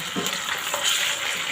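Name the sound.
garlic ginger paste frying with browned onions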